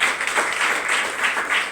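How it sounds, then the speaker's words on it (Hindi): Loud, steady applause from a crowd at a DXN business meeting in a hall, continuous for nearly two seconds with no voices on top. "जोरदार ताली चाहती हूँ"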